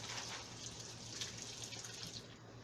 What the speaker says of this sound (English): Rinse my glove real quick here.